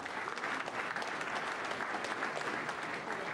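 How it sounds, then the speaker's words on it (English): Steady applause from a crowd at a martial arts event, dense clapping that holds at an even level throughout with no pauses. "So give yourself a round of applause."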